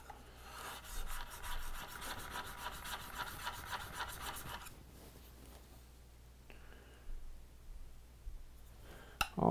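A blade is stroked over an extra fine sharpening stone, giving rhythmic, quiet scraping rubs close by, then a pause and a few softer strokes ending in a brief clatter.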